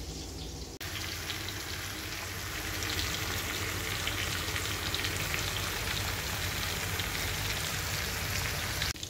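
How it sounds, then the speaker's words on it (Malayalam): Sardines frying in a pan for Kerala mathi choru give off a dense, even sizzle that carries on steadily without a break and with no voices. "അപ്പൊ ഇതിന്റെ മറുവശം കൂടി ഒന്ന് ഫ്രൈ ആയിട്ട്."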